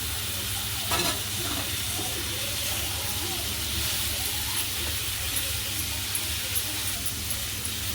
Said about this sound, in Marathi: आता मसाले सुटेपर्यंत आपण पण हळद आणि लिंबू लावलेले सगळे प्रॉन्स त्याच्यात टाकून घेऊ